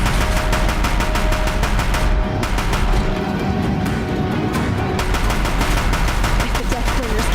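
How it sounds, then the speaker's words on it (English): Deathbringer war machines in Horizon Zero Dawn fire continuous heavy automatic bursts, a loud, relentless rapid pounding that runs the whole time with voices mixed in. "If the Deathbringers keep firing, this bridge will go."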